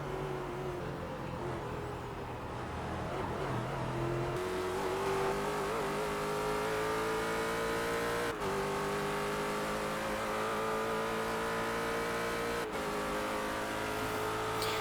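Ford GT race car in the iRacing sim: a loud, continuous engine drone that climbs steadily in pitch, with abrupt gear-shift breaks at roughly four-second intervals, heard alone without voices.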